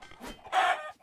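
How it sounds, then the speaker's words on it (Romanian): Chickens in the Roblox game Blox Loot give a short burst of clucking, one brief squawking cluck preceded by softer noises, close and fairly quiet. "Acum batem numai găinile"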